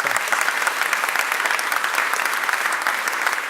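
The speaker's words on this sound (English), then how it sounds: "A round of applause" Applause fills an opening ceremony hall for a science forum, a dense, steady crowd clapping sustained evenly for a few seconds with no voices over it.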